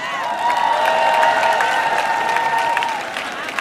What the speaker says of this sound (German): Applaus für die Barbara